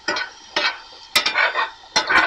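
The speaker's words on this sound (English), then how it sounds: "So we're going to fry it up just a little bit." Seasoning stirred and scraped in hot oil in a pot for ackee and salt fish, with four short bursts of sizzling and spoon scraping in an irregular rhythm, close and clear with no talking.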